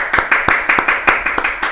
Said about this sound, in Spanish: Los aplausos para Jorge Schreiner Marengo.